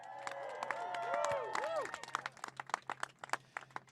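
A crowd at a campaign rally in Hamilton, Ontario cheers for Andrea Horwath, with swelling shouts and whoops at first, then breaking into quick, uneven clapping toward the end.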